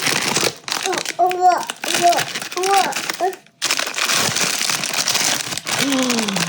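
Someone talks while plastic crinkles and rustles, followed by a burst of crackly cutting and crumpling noise as a Labubu toy packet is cut open.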